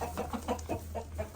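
Several hens cluck in short, irregular bursts close by inside a backyard coop with cardboard-lined nesting boxes, alone with no talk over a low steady hum.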